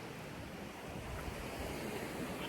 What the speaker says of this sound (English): For the first time in my life, I'm in the Pacific Ocean.